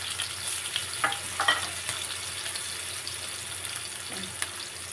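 Ginger and garlic frying in a pan after onions for a fish curry, a soft continuous sizzle with a few light stirring clinks near the start; no talk.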